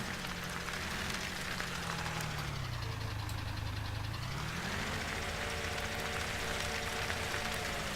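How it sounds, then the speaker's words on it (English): A John Deere tractor in a farming video game idles steadily, its mid-pitched engine drone rising and falling slightly in pitch, loud and continuous with no speech. "Don't come mess around now when Farmer Bob is in here with the tractor"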